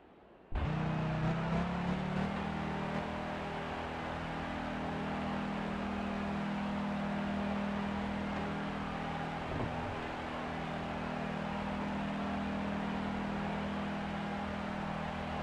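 Formula 1 car engine in Grand Prix 4 at the Austrian Grand Prix in Spielberg during qualifying: the engine starts abruptly and settles into a steady, sustained drone with a brief rise midway, heard alone without talk.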